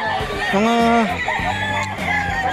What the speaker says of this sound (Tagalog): Ang daming manok dito, pre.